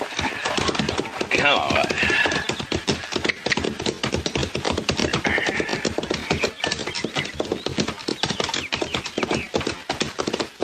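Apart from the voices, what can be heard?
horses with a wagon in a 1952 radio drama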